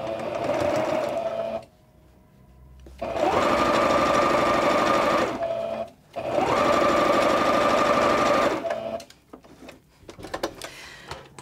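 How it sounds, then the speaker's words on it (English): A sewing machine stitching down fabric binding runs in two long, steady, buzzing bursts close up, separated by short pauses with small handling clicks. "I'm going to sew down the second side from the edge here"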